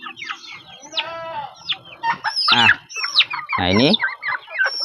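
Free-range village chickens clucking and squawking up close, a busy overlapping mix of clucks and a rooster's partial crow, with a brief spoken word.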